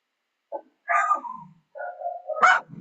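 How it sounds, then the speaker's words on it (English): Dogs bark indoors during a soft pastel painting demonstration, a short yip followed by two louder bursts of barking at moderate distance, with no talk over them. "there goes the dogs"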